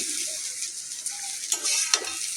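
Potatoes frying crisp in hot oil with slit green chillies and nigella seeds, a steady bright sizzle filling the pan with a few louder bursts as they are stirred, no voices.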